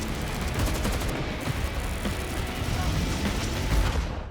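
Rapid gunfire in Battlefield VR, shots fired from a moving car, a dense crackling barrage that runs the whole time amid other battle noise.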